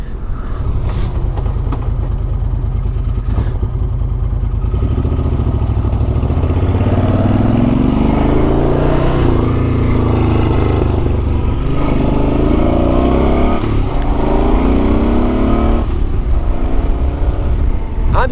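A Moto Guzzi Quota motorcycle being ridden, its engine droning loud and continuous up close, with rising and falling pitch as it revs and shifts, plus wind rush throughout.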